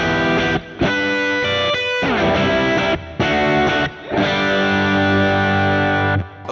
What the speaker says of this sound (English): Now let's cut this down 3, minus 3 decibels at about 1600 hertz.